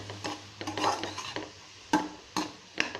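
Mixed vegetables with green capsicum are stirred in a pan, with several sharp spatula scrapes and clinks over a soft background sizzle, close and without speech.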